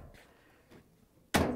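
A soft knock, then a single solid thunk of a Samsung washing machine door being shut firmly, close by and short.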